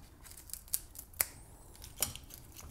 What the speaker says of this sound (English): I just use a good scissor to kind of cut them into smaller pieces